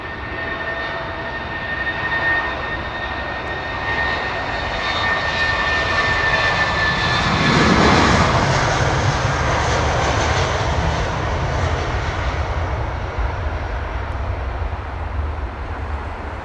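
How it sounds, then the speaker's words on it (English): Airbus airliner engines roaring at London Heathrow Airport, a loud sustained jet rumble that swells to a peak around the middle as the aircraft passes close by, then settles into a steady broad roar. "No, that's the AIRBUS."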